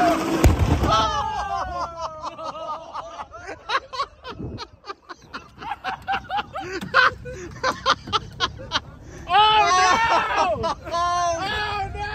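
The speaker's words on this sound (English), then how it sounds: "We blew up the tire." A Ferrari 458 tire blowing out with a loud, sharp burst near the start, followed by excited voices, laughter and shouting from people close by.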